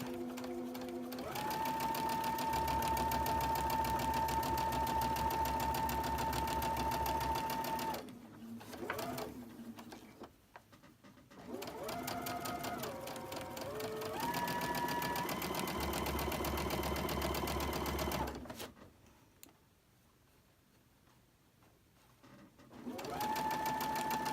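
A sewing machine stitches fabric for a quilt block in long runs of rapid, steady mechanical whirring, stopping briefly twice as the work is turned before starting up again, close and loud.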